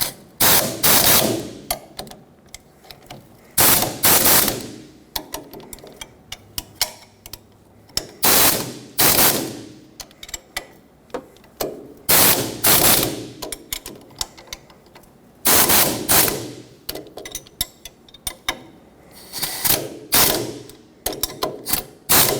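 Ratchet wrench bursts ring out while tightening ball joint nuts and bolts on a 1995-2004 Toyota Tacoma, loud, close, rapid clicking runs repeating in irregular spurts with short pauses between.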